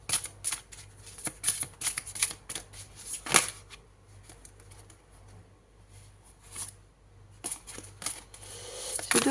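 Oracle cards shuffled by hand, giving repeated bursts of crisp riffling and flapping with short pauses between them, close by and with no speech over them.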